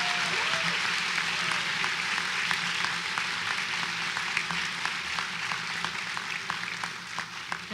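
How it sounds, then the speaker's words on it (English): Sustained applause from a graduation audience at Gavilan College, steady dense clapping filling the whole stretch at an even, moderately loud level, with no talk over it. "Please give her your applause."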